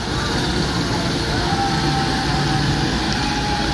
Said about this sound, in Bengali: Up local train Bandel railway junction অভিমুখে যাচ্ছে।